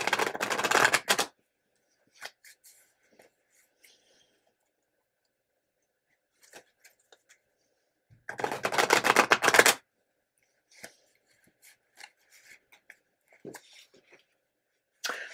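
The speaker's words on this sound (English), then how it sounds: "All right, one more shuffle, and we are cutting these cards." Two bursts of riffling tarot card shuffles, close and crisp, separated by quiet stretches with scattered small taps and card handling.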